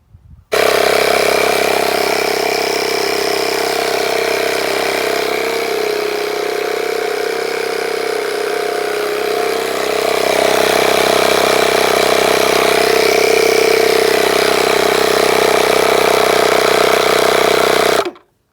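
A vehicle engine hauling a trailer runs loud and close with a steady idle-like drone that swells slightly midway before cutting off, and no one speaks over it.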